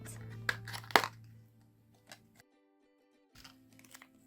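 Thin plastic packaging for a Sylvanian Families newborn figure crinkles and tears in a few sharp bursts, close and alone, then goes quiet before more soft rustling.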